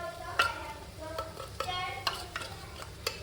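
Tuna going into a hot pan while tuna pasta is being made, giving a low steady sizzle broken by several sharp stirring and scraping clatters, close by, with no talk.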